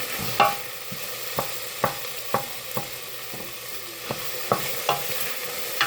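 Onions sautéing in a pan for spicy sausage rice, a continuous sizzle broken by regular sharp taps and scrapes of a utensil stirring, close and with no speech.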